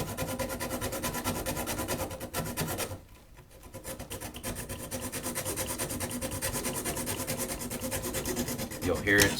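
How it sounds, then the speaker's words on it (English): Hacksaw blade cutting through a nail holding an electrical switch box to a wooden stud, rapid rasping back-and-forth strokes close by, pausing briefly partway through before resuming. "we take just a standard hacksaw blade and we go inside and we find the nail that it's attached to the stud and we actually cut it out"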